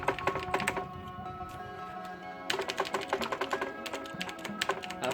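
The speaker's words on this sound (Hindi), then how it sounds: "आप साउंड सुन सकते हैं, मैकेनिकल कीबोर्ड।" A wired TVS mechanical keyboard being typed on, rapid clicky keystrokes in bursts with a brief pause midway, close and crisp.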